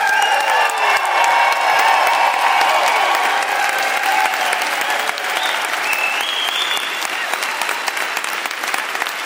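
A large audience in Calgary's Jack Singer Concert Hall gives loud, sustained applause that fills the room evenly for the whole stretch, with crowd noise and some cheering mixed in.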